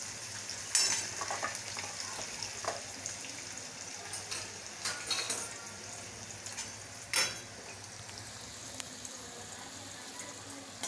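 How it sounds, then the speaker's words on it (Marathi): Hot tempering poured over steamed poha in a pan, giving a steady sizzle with a few scraping and clinking accents over a low background hum. "फोडणी आता आपण पोह्यावर ओतून घ्यायच्या"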